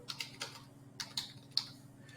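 A computer keyboard is typed on in a short, close burst of about eight light, uneven keystroke clicks.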